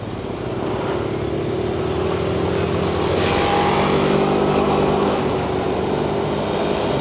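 Steady, continuous drone of traffic on a street in Binh Chanh District, Ho Chi Minh City, with trucks and motorbikes rumbling close by from a moving vehicle; engines blend into a dense, unbroken roar with no talking.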